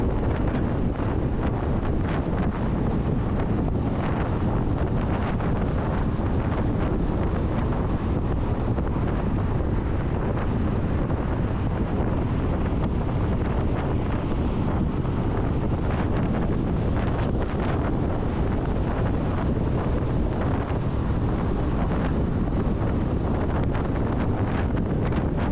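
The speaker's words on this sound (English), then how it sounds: "More windy than I thought it'd be" Constant heavy wind buffeting a microphone on a Suzuki Burgman motorcycle ride, a loud broadband roar with no letup, like riding fast in open air.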